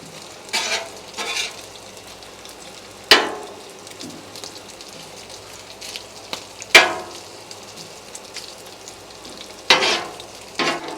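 Bacon pancakes fry on a Blackstone griddle in a steady soft sizzle, broken by a few sharp scrapes and clacks of a spatula on the steel surface, close by and with no talk.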